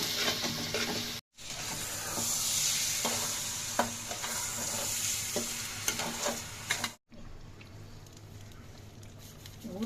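Food stirred and frying in a hot pan with eggs, a steady close sizzle with scraping stir strokes, broken by two short silent gaps; no talking.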